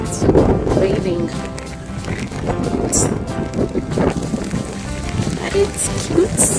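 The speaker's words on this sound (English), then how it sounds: "It's raining." Rain falls outdoors along the Causeway Coastal Route in Northern Ireland, a steady wet patter mixed with wind noise buffeting the microphone, while people talk nearby throughout.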